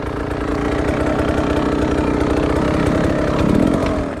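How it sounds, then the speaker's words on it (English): An enduro dirt bike with a destroyed exhaust pipe idles and putters on a hard enduro course. The engine chugs with a rough, continuous rattle close by and swells slightly near the end, with no talking. "my exhaust pipe is destroyed,"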